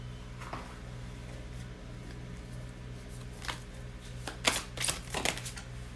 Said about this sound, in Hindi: कुछ एंजल्स के कार्ड्स निकाल रही हूँ।